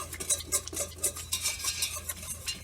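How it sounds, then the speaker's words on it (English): A whisk rapidly scrapes and clicks against a metal pot while a roux is mixed for a wood-fired seafood bisque, a rhythmic close stirring with light metallic taps and no voices. "we're just going to whisk that together"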